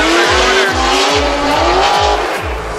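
Formula Drift cars in Las Vegas throw into a drift, loud tire squeal and skidding over roaring race engines, with repeated rhythmic engine pulses sweeping past close by.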